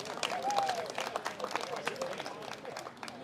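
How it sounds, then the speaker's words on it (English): Audience applause for a man being introduced at a neighborhood community gathering, a moderate spread of clapping with crowd murmur and a brief whistle, steady for a few seconds. "A big round of applause for Jim."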